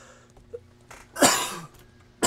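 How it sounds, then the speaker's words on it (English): A single harsh cough bursts out close and fairly loud, preceded by a softer throat sound, with another cough starting at the very end; game background sounds sit faintly underneath. "I can't get rid of this cough to save my life right now"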